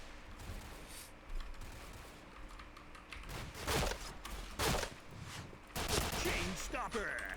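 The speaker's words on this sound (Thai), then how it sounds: "ดูเขายิงไงปืนมันแรงมากเลย" Gunfire rattles in the Point Blank shooting video game, quick bursts and volleys of shots over a busy background with keyboard clatter and a murmur of voices.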